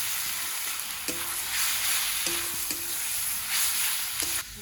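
Spices with turmeric and salt frying in oil in a pan for a minced lamb dish, a steady close sizzle with a few sharp clinks of a spoon stirring.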